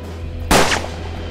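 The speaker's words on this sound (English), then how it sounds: "Shoot the target with the active weapon." One sharp, close gunshot from a Western-themed turn-based tactics game cracks out alone against a quiet hum, fading quickly into a brief tail.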